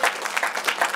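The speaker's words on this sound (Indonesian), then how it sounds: "Tepuk tangan dulu Pak Tung." Brief, lively clapping from a seminar audience, many hands at once, close and steady for about a second.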